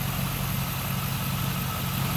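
A 1999 Pontiac Firebird Trans Am WS6 with its LS1 V8 idles under an open hood, a steady, smooth low rumble with an even pulsing throb, close and loud with no talk.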